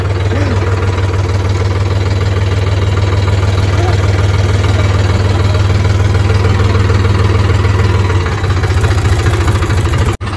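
A tractor engine runs close by with a loud, steady low throb and knocking idle, changing pitch near the end as it revs; voices are faintly mixed in.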